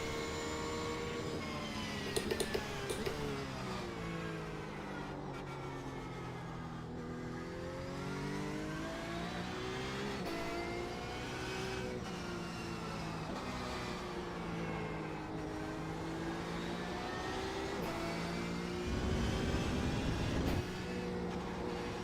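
A Porsche race car's engine in iRacing at the Montreal circuit climbs and falls in pitch through gear changes and revs, loud and steady throughout, with a short louder burst near the end and no speech.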